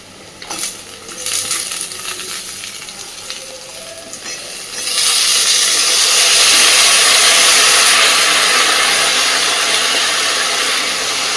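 Elephant foot yam stalks drop into hot oil already holding fried onion, garlic and green chilli, setting off a loud, steady, hissing sizzle after a few seconds of quieter crackling and clatter, with no talking.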